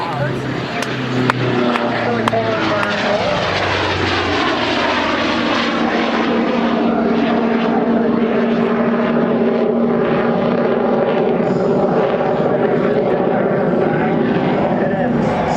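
Fixed-wing aerobatic airplane performing a double hammerhead at the Duluth Air Show, its propeller engine droning loud and steady with pitch shifts as it climbs and turns, while an announcer talks over a public address system.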